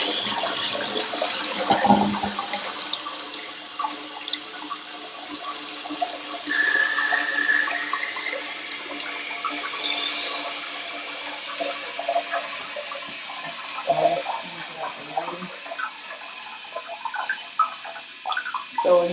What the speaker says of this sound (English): We're gonna go ahead and flush it a little and see what happens